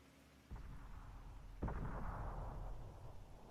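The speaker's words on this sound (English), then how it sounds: "See them trying to put some shots in from the distance" Tank guns fire from a distance in a tank video game league match, two low, muffled booms about a second apart, the second followed by a rolling rumble that lingers and fades.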